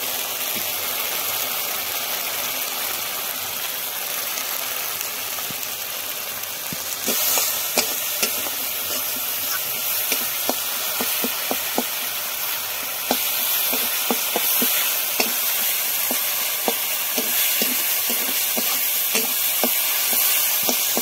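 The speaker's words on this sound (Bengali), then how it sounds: "মশলাটা কষানো হয়ে গেছে বন্ধুরা" Spice masala with chopped tomato and salt sizzling in a pan, a steady frying hiss broken by scattered clicks and scrapes of stirring that grow busier partway through.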